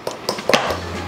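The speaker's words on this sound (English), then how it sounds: "So now we're adding the flour all at once, and guess what we're gonna do? We're gonna stir goddamn vigorously" A spoon knocking and scraping against a pot while flour is stirred vigorously into choux dough for a croquembouche, a few sharp clinks over about a second, close and without talk.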